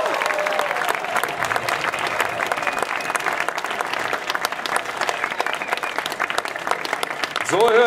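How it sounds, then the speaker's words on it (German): Loud, thunderous crowd applause for the German golf league rolls on without a break for about eight seconds, dense and steady, swelling slightly at the end. "einen richtig donnernden Applaus für die DGL in ganz Deutschland hören"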